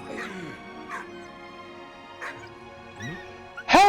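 A dog whimpers and yelps in a few short, strained bursts, ending in a sharper, louder cry, with voices talking over it.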